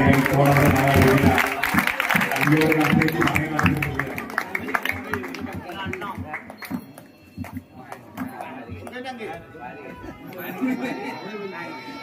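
A crowd at a temple lucky-draw event cheers for an almirah prize: strong clapping and chatter at the start fade into murmuring voices and a speaker talking, with scattered claps returning later.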